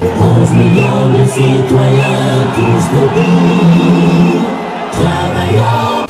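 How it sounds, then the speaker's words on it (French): A surexcited crowd cheers and whoops at a final-day campaign rally in the Omnisport Amadou Ahidjo stadium esplanade in Yaoundé, a loud, dense, continuous roar of voices with scattered yells, briefly dipping near the end before swelling again. "le candidat du parti Univers est accueilli par une foule surexcitée"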